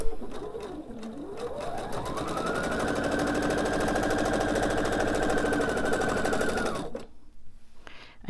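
A home sewing machine chain piecing fabric triangles runs in a continuous fast whirring stitch, ramping up in speed and holding steady before stopping abruptly, close and loud.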